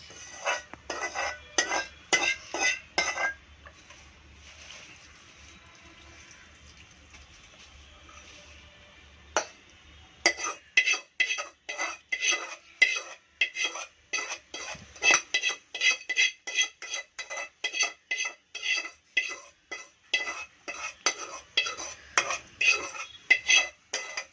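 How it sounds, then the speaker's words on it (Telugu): Oil is stirred into an amla (Indian gooseberry) pickle with a spoon in a metal vessel, producing rapid rhythmic scraping and clinking strokes in bursts, with a quieter pause in the middle and no speech. "ఆయిల్ పోసుకొని మంచిగా కలుపుకోవాలి."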